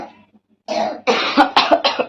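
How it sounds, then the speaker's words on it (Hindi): A woman who has been ill gives a dry cough in a series of harsh bursts, close and loud with no talk around them. "जब ज्यादा सूखी खांसी हो जाती है ना"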